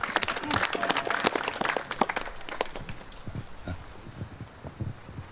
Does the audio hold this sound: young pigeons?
no